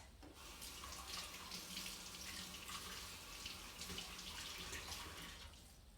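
Tap water runs steadily into a sink while a syringe that held sugar water is rinsed under it, a continuous close splashing hiss lasting several seconds.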